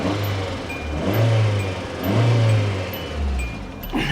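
A small Hyundai Accent bought cheaply at auction runs with a rough, noisy engine, its steady hum swelling and falling in repeated surges, close by and without talk.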